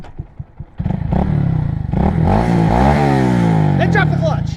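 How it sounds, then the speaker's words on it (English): A 2022 Honda Grom motorcycle starts with a few clunks, then its engine revs up loudly and holds a rising, throaty drone as the clutch is let out, heard close by. "So as I'm letting it out more, I'm having to give it more gas."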